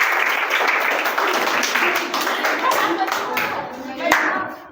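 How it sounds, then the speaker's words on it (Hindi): A classroom full of students claps steadily for a fellow student, dense continuous hand-clapping at close range with brief bits of voice mixed in. "वेल डन, इनके लिए ताली।"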